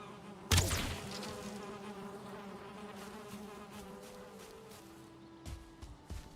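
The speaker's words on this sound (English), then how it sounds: "So we got bees. Oh yeah. More bees." Bees buzz steadily in the Valheim video game, a continuous droning hum with a sharp knock near the start, no talk over it.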